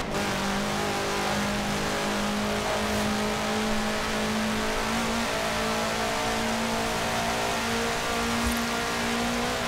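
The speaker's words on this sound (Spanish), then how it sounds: "Este coche corre demasiado, ¿no?" Fast car in Forza Horizon 4 racing game, its engine revving hard and steady throughout, a sustained loud drone with rising pitch and continuous whine, no talking over it.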